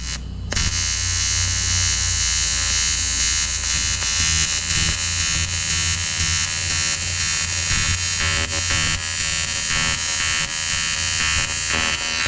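A TIG welder runs steadily from a pedal on an extension cord, giving a loud, continuous electrical buzz with a constant hum for about twelve seconds, with no talk over it.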